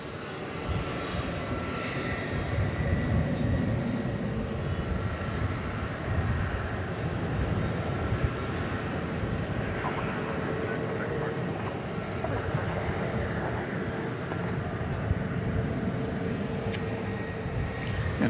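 An Airbus A300 jet rumbles at DFW airport at night. Its steady engine drone is moderately distant, and nothing else stands out over it for the whole stretch.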